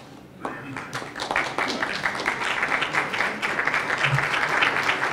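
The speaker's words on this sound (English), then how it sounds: "Let us give them a warm hand of applause." Audience applauding after a document signing at a formal ceremony, clapping that starts sparse and builds into dense, sustained applause.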